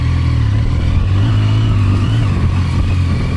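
A ZONTES 703F touring-enduro motorcycle revs loudly as it rides past close by, its engine note holding a steady, sustained drone with slight pitch shifts throughout, with no talking.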